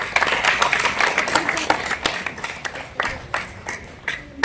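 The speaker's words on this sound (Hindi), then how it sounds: "वकील साहब के लिए जोरदार तालियां।" Applause at a village family gathering in Kasni honouring a daughter who became an army officer, a brief burst of uneven, scattered clapping from a small group that tapers off within a few seconds.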